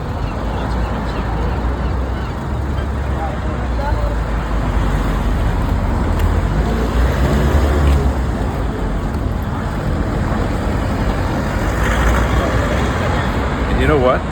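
Dublin road traffic: a continuous rumble of passing cars with low engine drone, an occasional distant honk, steady and moderately loud throughout.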